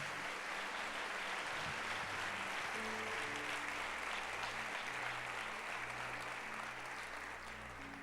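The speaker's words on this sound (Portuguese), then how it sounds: "Aplauda ao Senhor se você crê." A church congregation applauds, a continuous, dense wash of clapping from many people that holds steady in a large room, with a low hum of instruments beneath.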